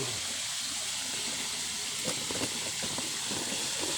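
Fresh pork fries in a pan with a steady, loud hiss of spitting oil, broken by a few brief crackling pops.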